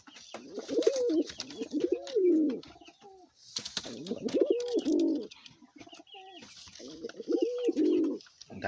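Male Giriraj pigeon cooing toward a female, three repeated bouts of rolling, throaty coos with short pauses between, close and clear, mixed with faint wing or movement rustles.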